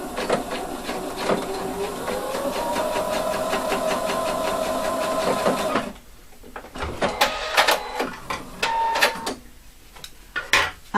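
A sewing machine stitches a fabric hood, running in a steady fast mechanical whir for several seconds before stopping, followed by scattered clicks and light handling noises.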